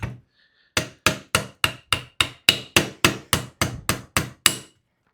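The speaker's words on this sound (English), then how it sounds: "If I can hit it in with my hammer." A hammer taps a part into a Quake stock on a Wolverine MTW-308 rifle. There is a single strike, a short pause, then about fourteen quick, evenly spaced metallic taps, close and crisp.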